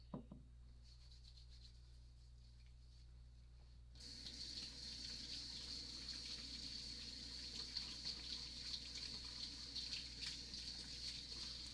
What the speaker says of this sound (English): So I apologize for the running water sounds.